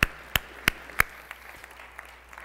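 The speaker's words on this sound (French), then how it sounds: "Et c'est moi qui vous applaudis." A single person claps their hands four times in quick succession, sharp and close, and the claps then fade into quiet room sound.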